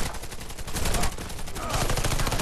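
Gunfire from the first-person shooter game Warface comes as rapid, dense automatic bursts. The shooting is loud and nearly continuous across the short stretch.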